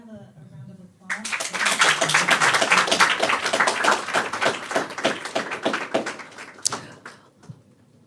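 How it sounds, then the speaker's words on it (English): Audience applause filling a room at the close of a talk with a NASA heliophysics scientist, a dense steady patter of many hands clapping that swells after a brief pause and tapers off after several seconds. "Can we have a round of applause?"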